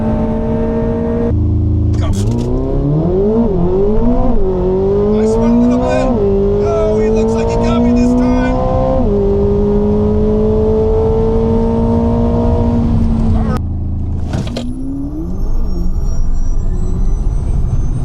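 Loud engines of a ZR1X and a tuned 1,200 HP Tesla Model S Plaid drag racing roar and rev hard, pitch climbing through several gear shifts in a row, then dropping off as another burst of acceleration follows.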